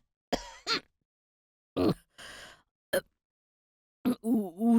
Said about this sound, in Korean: 잘 마시고 있던 커피가 사례가 들렸는지 기침을 하기 시작했습니다